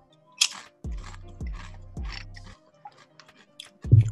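Crunchy spicy chips are chewed up close in a Santa Fe restaurant setting, with three distinct crackling bites followed by softer, scattered munching.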